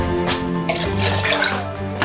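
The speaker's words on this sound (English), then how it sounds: "We're going to use this big pot, and then you fill about 8 cups of water." Tap water runs steadily into a large cooking pot in a home kitchen, a continuous rushing pour for making Myanmar pork soup, with a rising fill tone and no talking.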